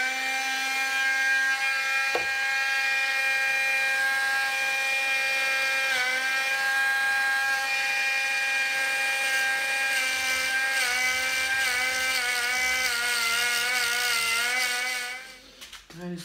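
A small power tool scrapes lightly inside an engine's combustion chamber, a steady high whine with a wavering pitch that runs close and loud for about fifteen seconds and then cuts off abruptly.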